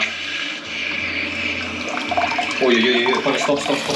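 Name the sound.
bidet toilet spraying water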